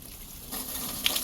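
Water washing debris out of a water barrel, a faint gushing splash starting partway in and running steadily to the end, with a small sharp knock near the finish.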